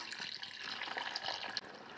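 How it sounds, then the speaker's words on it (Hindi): Hot water being poured over dried figs in a home kitchen to soak them, a steady watery splashing and trickling that runs continuously throughout, with no talking. "अब मैं इनको भिगो देती हूँ गर्म पानी।"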